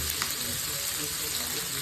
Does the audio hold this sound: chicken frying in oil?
yes